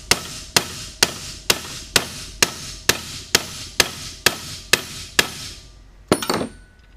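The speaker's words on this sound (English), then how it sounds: "Then you take a hammer and you just pound it." A hammer pounds a rivet into a metal C3 seat track: about a dozen sharp, evenly spaced metallic strikes ring close and loud, then a brief, different clatter follows.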